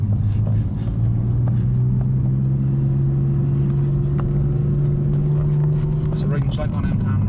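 BMW M4 Competition engine held at a steady raised rev in a deep droning hum for several seconds before dropping off, heard from inside the car over road rumble.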